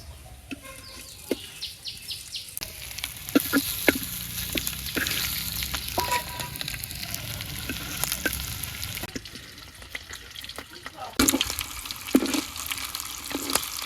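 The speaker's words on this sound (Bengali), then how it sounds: "রসুন বাদামি কালার করে ভাজা হয়ে গেছে এবার মাছগুলো ভাজছে" Fish sizzle and spatter in hot oil with browned garlic in a village kitchen, crackling bursts and stirring clatter over a soft continuous fry, with a rooster clucking faintly in the background.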